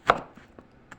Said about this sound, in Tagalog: meron ako ditong upong hinihiwa-hiwa